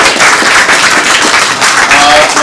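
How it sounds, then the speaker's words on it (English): Loud, close applause from a Greek community audience at a parade reception, honoring the city of Thessaloniki, with a continuous wash of many hands clapping and a faint voice near the end. "please all, an applause for my home city"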